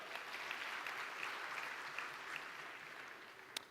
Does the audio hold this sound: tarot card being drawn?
no